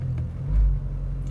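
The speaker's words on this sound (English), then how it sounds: "It's doing a high idle to warm up." A Volkswagen Beetle engine hums low and steady at a slightly raised warm-up idle, with a brief swell of deeper rumble partway through, no voices.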